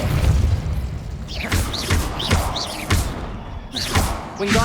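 Hogwarts Legacy's Depulso force spell, played on PS5, fires in a quick series of heavy booming thumps, each with a sharp swooshing burst. The hits land in a loud, steady rhythm roughly every second, with no voices.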